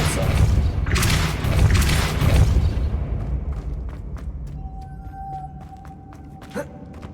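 Spell blast in Hogwarts Legacy: a loud booming whoosh with a heavy thud, rumbling for about three seconds before fading into quieter ambience with a faint tone and small clicks.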